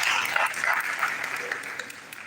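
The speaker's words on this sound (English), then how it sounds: "a round of applause to him" Applause from a seated audience for the chairman of an academic gathering, a steady dense patter of clapping lasting a couple of seconds at moderate level, fading slightly toward the end.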